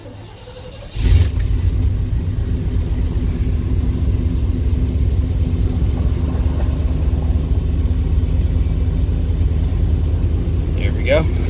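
A manual truck's 350 small block V8 starts with a sudden burst, then settles into a loud, steady, close rumbling idle, with faint sounds of people in the background.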